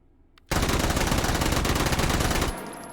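A K50-M submachine gun fitted with a muzzle brake fires one sustained full-auto burst of about two seconds in a VR shooter game, loud and close, then stops with a faint ringing tail.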